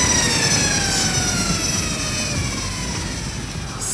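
A Harley-Davidson LiveWire electric motorcycle accelerates hard in sport mode, a loud rising electric whine with climbing tonal sweeps over rushing wind noise, sustained for the whole stretch.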